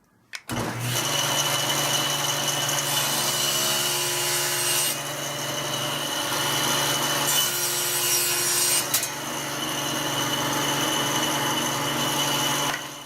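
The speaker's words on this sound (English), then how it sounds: "Now we have the table saw set at a perfect 45-degree angle." A table saw tilted to 45 degrees cuts bevels in walnut for a jewelry box, its loud steady whine rising into several long, grinding passes through the wood, alone and close.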